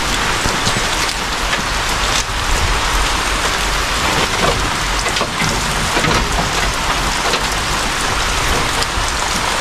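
Steady rain falls outdoors near a feeding shelter, a dense continuous hiss of drops on surfaces with faint low rumbling beneath, loud and unbroken with no voices.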